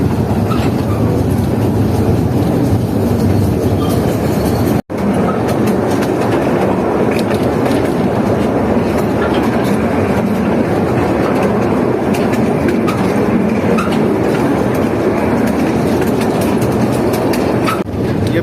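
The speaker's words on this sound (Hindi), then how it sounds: "इंतहाई खूबसूरत दरख्तों के दरमियान से गुजर रही है हमारी छांगा मांगा स्पेशल ट्रेन" A special toy train runs through the Changa Manga forest in Pakistan, its wheels and cars rumbling in a loud, steady clatter that continues almost without a break.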